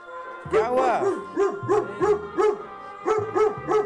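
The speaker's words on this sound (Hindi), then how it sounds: "और अपना कुत्ता यहाँ पे भौंक रहा," A dog barks repeatedly at a grandmother's house, about eight sharp close barks in an uneven rhythm, with a person briefly speaking among them.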